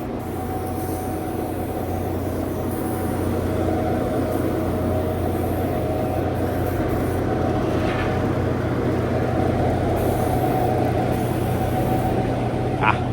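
Steady hiss of a spray gun coating the bumper of a 1984 Chevrolet C10 truck, a continuous broadband wash under a constant low fan drone, with no pauses.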